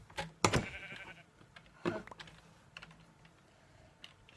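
Sheep in Minecraft give faint bleats amid close clicking and tapping of a computer keyboard, with a couple of sharp taps standing out and no talking.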